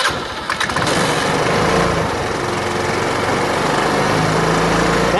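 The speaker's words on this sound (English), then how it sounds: "So at this point, we can turn on the scooter." A scooter engine fires up with a brief rough burst, then settles into a steady, buzzing small-engine idle that stays close and even throughout.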